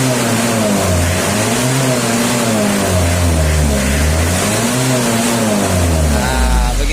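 A Mitsubishi L300 or Isuzu Panther diesel engine with a 2.5 engine runs roughly, a loud, close, continuous rattling clatter with a low throbbing drone and slight pitch swells as it revs.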